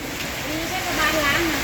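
Rain falls in a steady hiss while a few faint tonal sounds drift through the background.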